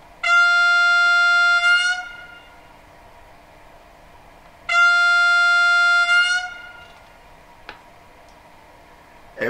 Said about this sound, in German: F2, Signalhorn hoch.